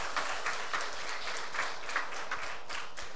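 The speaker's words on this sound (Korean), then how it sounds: "우리 여기 현악기 반주해 주시는 분들에게 다시 한번 감사의 박수" A chapel congregation at Hanyang University claps for the string accompanists, a steady, even crowd applause that holds at moderate level throughout with no voices over it.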